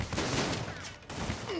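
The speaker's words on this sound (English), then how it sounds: "Take my shotgun out for a ride." Shotgun fire in the video game Army of Two: The Devil's Cartel, heavy blasts running into a dense, continuous barrage of gunfire with a brief lull midway.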